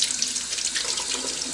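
Tap water streams steadily into a kitchen sink while eggs are rinsed, a continuous close splashing hiss with no talking.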